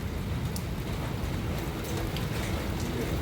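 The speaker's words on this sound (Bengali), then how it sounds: "বাইরে প্রচুর বৃষ্টি হচ্ছে" Steady, dense hiss of heavy rain pouring down, continuous and fairly even throughout, with no voices.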